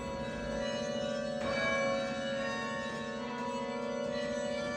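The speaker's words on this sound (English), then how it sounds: "When I depress one of these batons, I can hear one of the bells above strike." A Duke Chapel carillon bell, struck by a clapper when a baton is pressed, rings with a steady, sustained metallic tone, and a second faint strike blooms in partway through as the overtones hum on.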